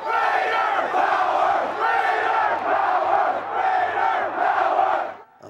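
A massive stadium crowd at Jones Stadium during a Texas Tech football game roars and chants in rhythmic surging waves, loud and continuous, fading out at the end.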